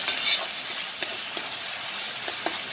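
Chopped ginger and garlic fry in a pan for chilly chicken, a steady hiss of sizzling with a few sharp clicks of stirring, close and moderately loud, no voices.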